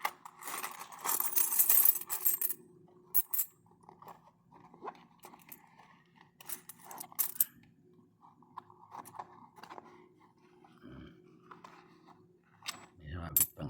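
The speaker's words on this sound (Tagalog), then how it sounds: "Atin pong buksan at nang malaman natin kung anong mga barya ang laman nito." Coins are emptied out and clink and jingle in scattered bursts, with someone speaking between the clatters.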